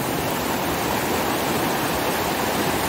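Water rushes and splashes in a constant, dense, loud wash of noise for a few seconds, steady and unbroken with no talking over it.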